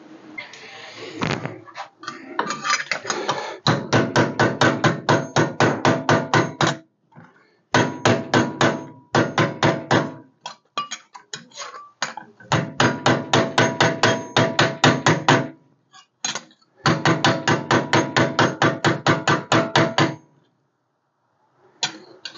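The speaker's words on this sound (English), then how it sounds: "I'm going to hammer them flat before I get started" Hammer striking distorted pieces of cut metal car body panel to flatten them during a B-pillar repair: long runs of rapid, sharp ringing blows in bursts separated by short pauses, close and loud with no talk.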